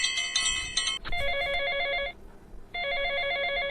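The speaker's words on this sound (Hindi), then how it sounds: "मौसा जी का फोन आ रहा, फोन आ रहा है" A telephone rings with repeated bursts of electronic trills in a domestic setting, loud and close, pausing briefly between rings with no one speaking.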